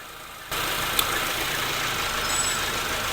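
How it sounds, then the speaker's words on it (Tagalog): Car engine idling roughly and unevenly after one ignition coil is unplugged during a misfire check, with a steady, close mechanical drone. "Ayan, nanginig ang makina."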